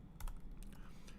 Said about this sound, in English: if you see me typing